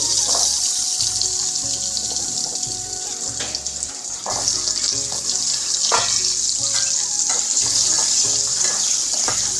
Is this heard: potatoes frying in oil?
yes